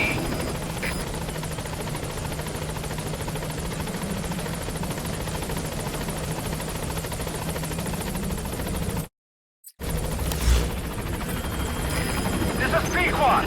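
A support helicopter arrives at a landing zone in the Metal Gear Solid V video game, its loud, steady rotor thrum filling the scene with a brief dropout near the end, under radio-style voices.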